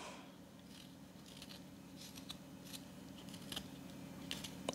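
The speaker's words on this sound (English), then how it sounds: "use the spoon, the tip of the spoon upside down, and just scrape it like this" Fresh ginger root scraped with the upturned tip of a spoon to strip the peel, giving quiet, close, irregular scratchy strokes over a steady low background hum.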